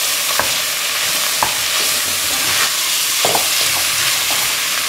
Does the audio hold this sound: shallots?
yes